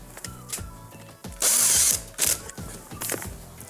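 Power driver driving 2 1/4 inch screws to mount a new condenser fan motor onto its bracket in an Estate refrigerator, with a close, loud whir that rises and stops in short bursts alongside ratcheting clicks and mechanical rattling.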